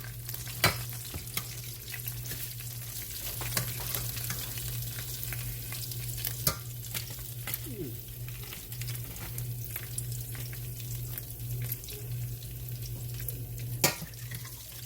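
Oil crackles and sizzles steadily at close range as flounder fries, with scattered sharp pops and a low hum underneath.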